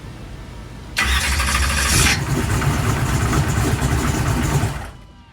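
A car engine cranking on a 16-volt lithium battery rated at 2500 cranking amps, a loud, fast, even starter whir lasting about four seconds before cutting off, with no voices.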